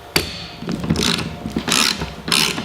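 A TurboSocket tool turning out a socket head cap screw in a shop, heard as a quick series of ratcheting clicks and mechanical bursts, several separate grinding pulses close up with no talk.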